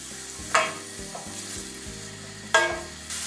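A spoon scrapes through roughly chopped onions frying in oil in a pan, with a steady sizzle underneath and two louder clanks against the pan, close and clear with no voices.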